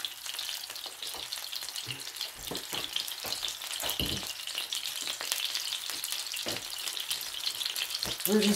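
Cheeseburger patties fry in oil on a stovetop pan, a steady close sizzle with occasional sharper pops and crackles running throughout, no voices.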